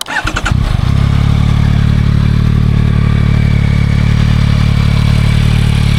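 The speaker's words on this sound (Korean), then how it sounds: "그래서 일단 배기음 한번 들어볼까요?" A 2025 Yamaha MT-09 SP with its stock exhaust cranks briefly with a clattering starter, fires up, then settles into a steady, loud, close idle with no talk.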